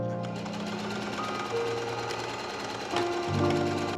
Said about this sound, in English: I'm just going to be sewing that along there